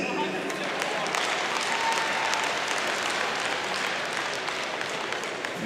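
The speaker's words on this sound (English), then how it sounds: "And big round of applause for 3AW's breakfast," Steady, dense crowd applause fills an ice hockey arena at a Trans-Tasman Hockey Challenge game before the ceremonial puck drop, holding at an even, loud level throughout with crowd noise mixed in.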